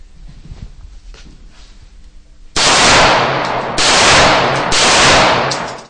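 Rapid bursts of paintball gun fire break loud and harsh after a quiet stretch, sustained strings of shots with brief gaps in between.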